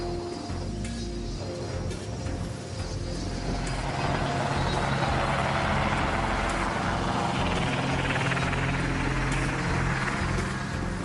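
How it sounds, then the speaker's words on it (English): A cargo helicopter flies near a warship at sea, its rotor and turbine roar steady at first and then swelling louder and broader about midway as it draws closer, continuous with no pauses. "Cargo helicopters replenish supplies and connect ships to shore."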